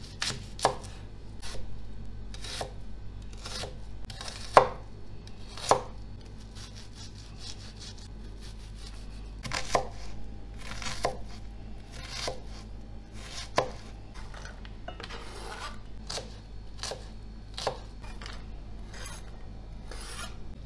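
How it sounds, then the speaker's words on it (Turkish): A knife taps repeatedly on a cutting board, chopping garlic in quick irregular strokes, close and crisp, with no talking. "Sarımsağı da küçük küçük doğruyorum."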